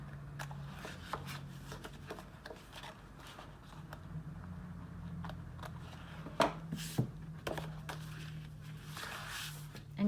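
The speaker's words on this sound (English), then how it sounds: "So I'll just flip this over and trim off these overhanging pieces." A scrapbook layout is flipped over and its overhanging paper pieces are trimmed off, with soft paper rustles, handling noises and a few sharp snips and taps, quiet and close.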